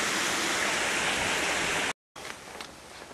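A river rushes beside a footpath, a steady broadband wash of flowing water heard close and fairly loud, cutting out briefly before resuming slightly softer.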